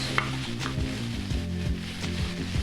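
Green curry paste sizzles and fries in a pan while being stirred, with a steady crackle and rhythmic scraping strokes close by.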